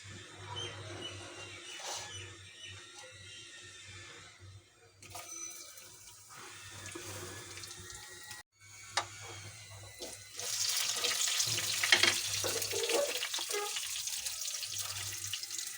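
Spices, bay leaf, kalonji, garlic, onion and green chili hit hot oil for tempering, giving a soft, steady sizzle and crackle with a few clicks and clatters. The sizzle grows louder and fuller near the end.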